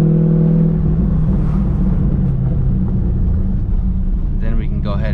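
A Chevrolet C5 Corvette drives off to bed in new brake pads, its engine a steady low rumble with a brief flutter of higher noise near the end.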